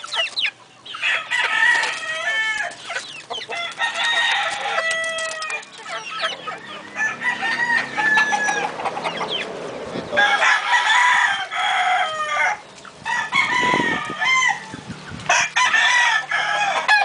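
Paul Webster gamecock stags at a cockfighting yard in Caoayan, Ilocos Sur crow and cluck continuously and loudly, several birds overlapping close by, with brief bits of talk mixed in.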